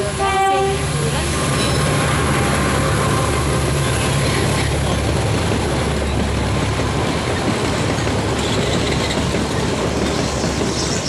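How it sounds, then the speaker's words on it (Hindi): A train coming down from the mountains roars past close by in a loud, continuous rumble with a horn blast at the start and rhythmic wheel clatter throughout. "तो ये पहाड़ों से आएगी अभी आपके सामने ट्रेन"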